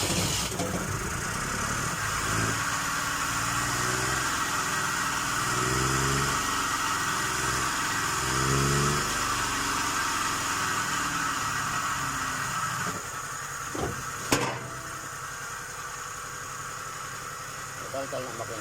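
A Suzuki F6A engine in a Multicab, after distributor and timing repair, cranks and settles into a continuous idle: a steady mid-pitched engine hum with a hissy buzz, a few sharp clicks near the end.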